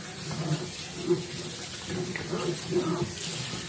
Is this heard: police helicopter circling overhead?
no